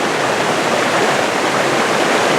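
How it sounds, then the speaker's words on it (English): A waterfall near Lillehammer, Norway, pours down over rocks in a steady, loud, close rush of white water with no voices. "I've come across another waterfall."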